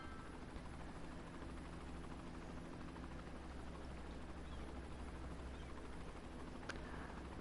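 A helicopter in the Cities: Skylines city-building game drones steadily with continuous rotor chop and engine hum throughout, moderately loud and unbroken, with no voices over it.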